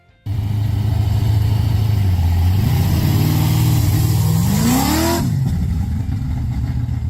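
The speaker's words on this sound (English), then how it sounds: "the Barracuda delivers a satisfying growl that can make any drive a thrilling experience" A 1969 Plymouth Barracuda engine starts up into a loud, deep growl, then revs in rising and falling sweeps before settling back to a steady rumbling idle, heard up close with no talking.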